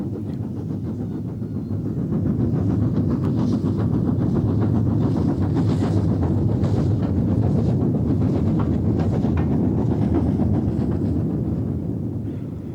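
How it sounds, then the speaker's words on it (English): The LNER A3 steam locomotive Flying Scotsman and its train cross the Esk Viaduct in Cumbria with a low, continuous rumble and a faint rhythmic wheel clatter, heard from a distance through wind. "Crossing the Esk Viaduct in Cumbria is the complete Flying Scotsman Services lineup of locomotive and train."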